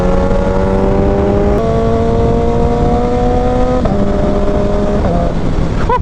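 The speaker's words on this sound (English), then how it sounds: "Just listen to those shifts. The upshifts are phenomenal." A Suzuki Hayabusa motorcycle engine screams loudly up through the gears, its steady rising tone dropping sharply at each of several quick upshifts, with no talk over it.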